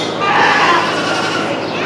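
Dairy goats bleat in a wavering, nasal cry at a Hendricks County fair goat show during a senior showmanship class, loud and close, with a voice talking over them.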